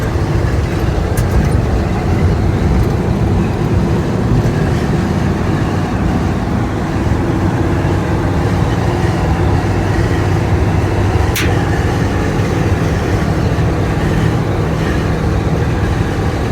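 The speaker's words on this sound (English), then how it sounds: "We got a good crosswind going, so you do get some wind noise in the cabin" A 1971 International 1110 pickup drives on a bumpy road on a windy day, with loud steady crosswind noise and road rumble filling the cabin continuously, a brief click near the end.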